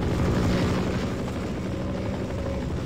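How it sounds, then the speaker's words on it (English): A helicopter in a VR video game, heard as a steady, loud rotor and engine roar that holds for the whole stretch, with no voices over it. "So are you saying the helicopter is fucking dead?"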